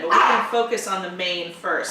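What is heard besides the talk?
dog barking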